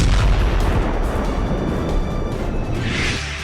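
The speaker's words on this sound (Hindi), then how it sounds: "यूक्रेन ने रूस के नेवल बेस पर हमले के लिए स्टॉर्म शैडो मिसाइलों का इस्तेमाल किया है।" Loud, sustained rumbling blast from a Storm Shadow missile strike on a Russian naval base, a dense low roar that holds steady for several seconds before easing slightly at the end, with no voices.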